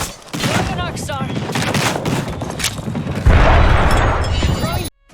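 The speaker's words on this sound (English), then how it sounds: "Throwing an arc star." An arc star grenade is thrown in a video game, and a sudden loud crackling burst rises partway through amid busy game combat noise, gunfire and in-game voices.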